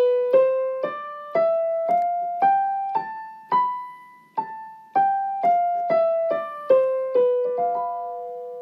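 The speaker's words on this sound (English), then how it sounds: "So this Locrian scale sounds like this." A Locrian mode scale starting on B, played as a run of clear, evenly spaced single notes rising and then falling back down, each struck and left to decay, with no other sound.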